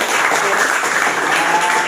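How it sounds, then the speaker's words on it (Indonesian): Applause at a table tennis event, a dense, continuous wash of clapping from a gathered crowd, loud and steady across the short span without clear individual claps. "Tepuk tangan untuk Pak Desa."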